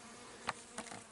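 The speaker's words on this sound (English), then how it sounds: "And the bees are still out going crazy on them." Bees working wild sunflowers outdoors make faint, brief buzzes that rise and fade as they fly past, with soft background air and no talk.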